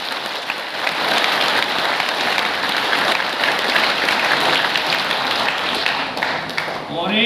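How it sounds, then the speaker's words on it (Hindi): Loud, sustained clapping from a large seated audience at an AWPL business seminar, a dense continuous roar of many hands that holds steady for several seconds before tapering slightly at the end. "इन सबके लिए बस जोरदार तालियां"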